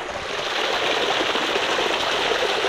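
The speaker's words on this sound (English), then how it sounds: "I like the sound from the water" Water rushes steadily along a stream near an African village, a dense, even broadband flow that stays close and unbroken throughout with no voices.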